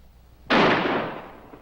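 A single loud gunshot cracks sharply and rings out with a fading tail during a highway patrol standoff, sounding alone without talk.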